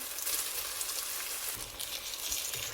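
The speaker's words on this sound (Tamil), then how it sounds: "கழுவி ஊற வச்ச பாஸ்மதி ரைஸை இப்போ சேர்த்துக்கலாம்." Soaked basmati rice tipped into a hot pan for plain birinji rice and mixed, giving a faint, steady sizzling hiss with light scraping throughout and no talking.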